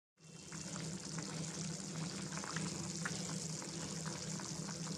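Prawns and drumstick leaves simmering under a lid in mustard oil give a steady, close hiss with fine bubbling that carries on unbroken for the whole stretch, with no voices.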